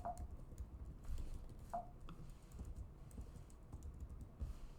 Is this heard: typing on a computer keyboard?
yes